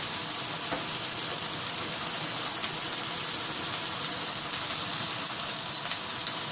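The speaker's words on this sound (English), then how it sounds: "You can hear it sizzle away." Steady, dense sizzling of oil in a hot frying pan cooking steak, a continuous crackling hiss that fills the clip at close range with no talking.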